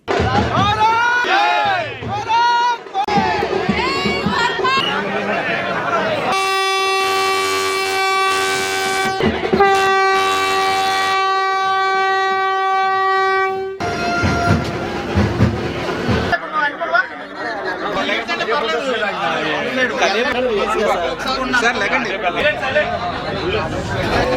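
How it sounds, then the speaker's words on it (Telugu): A passenger train travelling from Narsapuram to Bhimavaram sounds a long, loud horn for several seconds amid rolling rail noise and crowd chatter, with speech before and after. "నర్సాపురం నుంచి భీమవరం వరకు ట్రైన్ లో ప్రయాణించడం జరిగింది"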